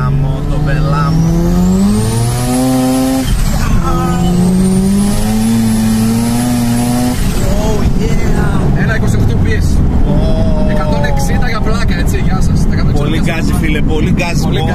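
Mazda RX-7 FD rotary engine revving hard, rising and falling in long loud sweeps that hold steady at high pitch, with speech running over the engine throughout.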